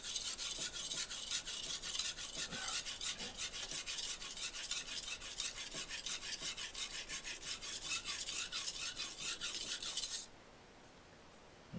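A knife being sharpened on a brick, rapid rhythmic rasping strokes of steel on rough brick, close and continuous for about ten seconds before stopping abruptly into quiet.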